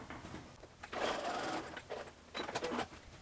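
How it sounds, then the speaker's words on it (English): A sewing machine stitches a small gap closed on an elastic sleeve casing of a peasant top, running in short, close bursts of fast mechanical whirring with brief pauses between them. "stitch that little gap closed"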